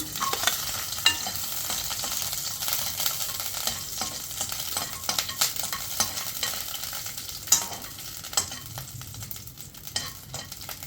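Garlic frying in oil for a light diet ivy gourd chutney, a steady close sizzle with scattered sharp crackles and stirring clicks, continuous and with no talking.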